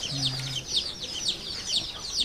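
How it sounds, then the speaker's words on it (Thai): Village chickens give repeated clucks and short rising calls, one close bird and others around, in quick irregular bursts over a low background hum. "ไก่เนาะ"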